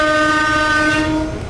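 A Resort 21 sightseeing train on the Izu line rolls along steadily, a loud sustained tonal hum over rumbling wheels, fading slightly toward the end.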